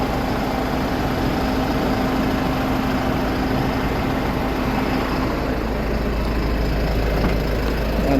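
An air conditioner fan in a Mitsubishi Fuso truck with a new compressor runs hard, making a constant, loud broadband whoosh with a low engine hum beneath it, steady throughout with no talking.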